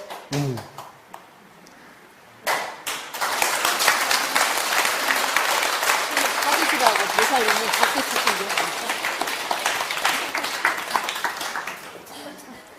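Lecture-hall audience bursts into sustained clapping after a short spoken pause, many hands beating fast and loud for several seconds before tapering off, with voices and laughter mixed in.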